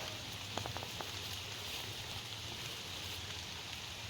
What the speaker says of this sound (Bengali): তো বৃষ্টি এলো কেন?